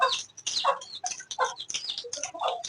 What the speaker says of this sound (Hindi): ये हमारी मुर्गी, ये मुर्गा और ये मुर्गी